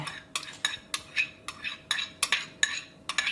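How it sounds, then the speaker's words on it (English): Greek yogurt whisked in a bowl, a quick run of crisp, evenly spaced metallic strokes against the bowl, close and clear with no voices. "Give that a nice whisk."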